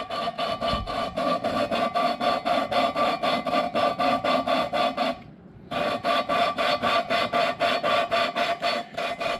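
Steady back-and-forth abrasive rasping from hand-lapping a valve against its seat on a Ram 2500 6.4L engine, loud and close, with even rhythmic strokes, a brief pause midway, then the strokes resume.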